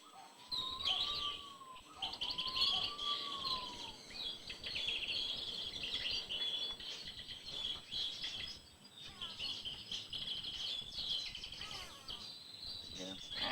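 Several birds chirp and whistle in a walk-through aviary, with rising and falling whistled calls and sharp high tweets over a quiet background murmur.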